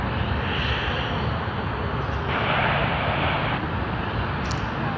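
An Airbus A380 departing Sydney Airport for Johannesburg gives a steady, broad jet roar that swells slightly midway, continuous and fairly loud from a distance, with no talking.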